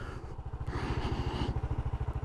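Motorcycle engine revving hard in first gear for a wheelie on the Ho Chi Minh Trail, a close, loud pulsing exhaust throb that rises in pitch partway through and holds steady, with no talk.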